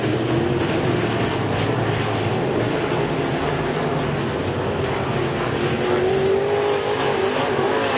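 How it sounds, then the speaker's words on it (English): RUSH Pro Mod race cars racing at Freedom Motorsports Park, a loud, steady roar of engines that swells and shifts in pitch as the pack passes, with no voices over it. "the race is on for 3rd as Wilcox and Chamberlain are battling it ou"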